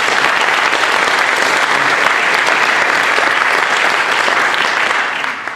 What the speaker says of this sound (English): So applause for everybody here.